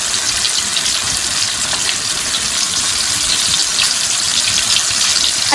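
A chicken roast fries in oil in a pan over a low flame, giving a steady, loud, continuous sizzle with fine crackling throughout and no voices.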